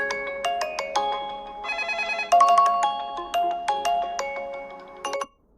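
A lively, cute ringtone from an Honor 500 Pro phone plays bright, chiming melodic notes in a bouncy rhythm, loud and close, then cuts off abruptly.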